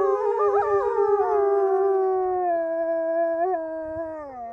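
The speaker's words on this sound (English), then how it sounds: "If you find yourself in the middle of the frozen tundra howling with wolves who don't even want to do that" Wolves in Norway howling together, several long, loud, sliding tones overlapping and slowly falling in pitch, heard clearly and close.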